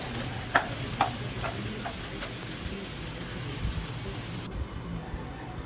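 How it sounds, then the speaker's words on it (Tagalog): Pork fries in a pan with a steady low sizzle throughout, broken by a few soft ticks and taps near the start. "So niluluto ko muna saglit yung ating pork"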